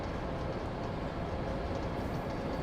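Trains running in a train simulation video game with AI traffic on high speed lines, a steady continuous rumble of rolling stock filling the whole stretch without talk.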